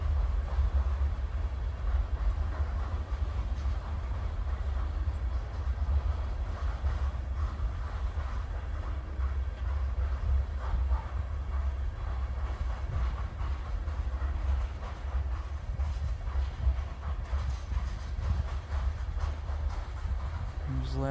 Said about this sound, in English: There's the last of 519 now.